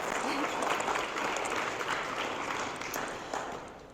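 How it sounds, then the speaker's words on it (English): Audience at a senior awards ceremony applauding a scholarship recipient, steady clapping from a crowd that gradually fades, with some voices mixed in. "So if you could give Miss Meredith a big round of applause."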